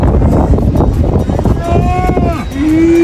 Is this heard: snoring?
no